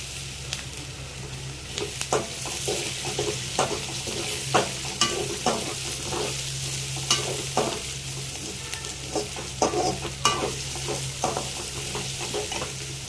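Mutton curry base frying and sizzling in a pan as tomato pieces go in, with a steady hiss and scattered stirring clicks and scrapes throughout, close and moderately loud, no talking.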